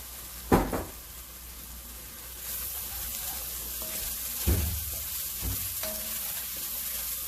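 Olive oil sizzles in a pan while a veggie risotto is cooked, a soft steady frying hiss broken by a few clattering knocks and stirring sounds, with no voices.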